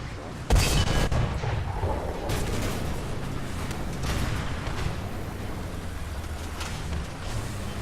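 Artillery fire in War Thunder during a T-34 1942 tank match, a sharp loud blast followed by rumbling, rolling booms and a few fainter distant impacts.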